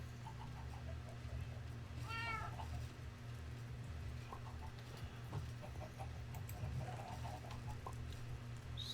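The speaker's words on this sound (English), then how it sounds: "Oh, that's my cat." A house cat gives a few short meows and soft chirps, one clearer cry early on and fainter ones later, over a constant low hum and light patter.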